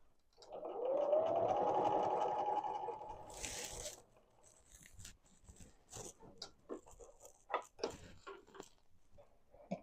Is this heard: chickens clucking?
no